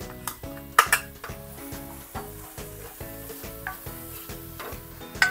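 A clove-bulb's worth of garlic and a medium onion sauté in a pan, with a steady sizzle under rhythmic stirring and scraping, and sharp utensil clinks against the metal now and then.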